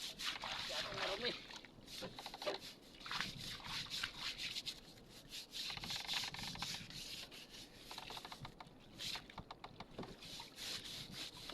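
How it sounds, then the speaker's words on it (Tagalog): Brush bristles scrubbing a dirty freshly caught squid, a steady rough rubbing and scraping that runs close and continuous, with faint background noise underneath. "Brasan natin to mga guys kasi masyadong marumi."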